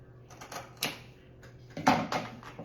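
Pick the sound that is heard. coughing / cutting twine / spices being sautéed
cutting twine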